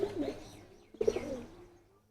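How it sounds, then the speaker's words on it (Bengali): A Giribaz pigeon coos twice in close succession, each soft throaty call rising and fading, heard up close and fairly quiet with no talking. "দেখেন মাশাল্লাহ খুব সুন্দর একটা কবুতর"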